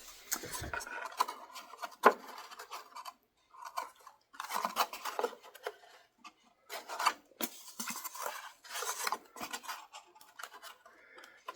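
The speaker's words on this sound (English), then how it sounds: "Cut a chunk over size, and then we'll fettle that to fit in that gap." A piece of wood being trimmed to fit a model aircraft wing repair: close, intermittent scraping, rasping and snipping strokes in short bursts separated by quiet pauses, with a sharp tap early on.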